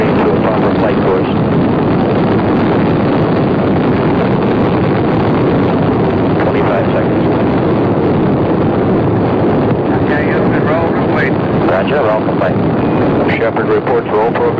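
Apollo 14 rocket at liftoff in 1971, a continuous, loud, broadband roar filling the whole span without letup, with a radio voice speaking over it.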